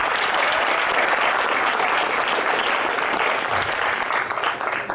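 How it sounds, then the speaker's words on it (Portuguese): A church congregation applauds during an evangelical sermon, a dense, loud, steady wash of many hands clapping that holds for the whole stretch with no voices on top. "Aplauda o Senhor e receba a glória e a graça de Deus"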